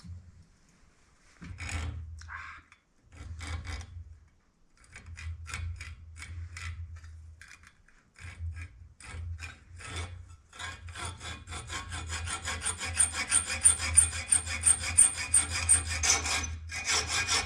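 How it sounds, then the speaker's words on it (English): A hacksaw cuts off a spur in steady back-and-forth strokes, a rhythmic rasping close by that starts in spaced bursts, grows denser and louder, and gains a metallic edge toward the end. "I think I'll hacksaw him off"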